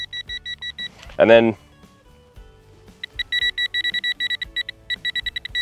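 Repeated high electronic beeps from a GPX 6000 metal detector sweeping over a small gold nugget, chiming in rapid bursts before and after a short spoken phrase, growing denser and louder as the coil nears the metal.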